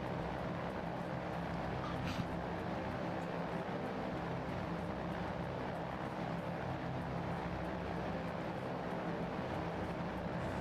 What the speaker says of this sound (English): I'm going to be half deaf by the time this stream's over with how loud this plane is.